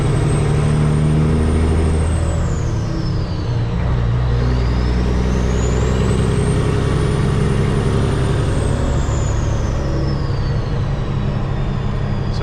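A Peterbilt truck with a fuel pressure problem pulls out of a truck stop, its diesel engine droning steadily up close while a high whine rises and falls twice over the rumble.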